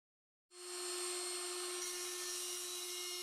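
A Proxxon IBS/A battery drill grinder with a permanent-magnet DC motor rated up to 23,000 rpm whirs to life after a moment of silence, then holds a steady, close, high-pitched whine alone.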